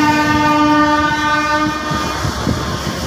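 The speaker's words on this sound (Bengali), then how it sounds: "ট্রেনের মাথা কিভাবে লাগায় সংযুক্ত করে দেখেন" Locomotive being coupled to a train at Kamalapur station, Bangladesh: a steady, loud diesel drone with strong tonal hum fills the scene, with low rumbling clanks growing toward the end.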